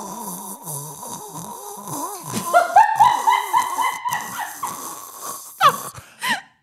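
A person's voice imitates snoring, with rhythmic nasal snorts and wheezy breaths that rise into louder, squeaky whistling snores near the end, close and alone.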